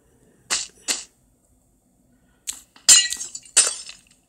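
Glass breaking in a fire-versus-ice sequence: two sharp crashes, a pause, then a rapid burst of shattering and clinking pieces, loud and close with no voices.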